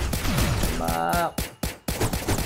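Rapid gunfire bursts from the side-scrolling action game Risk of Rain Returns, a string of sharp shots and a steady rattle layered with game music and effects, with someone talking over parts of it.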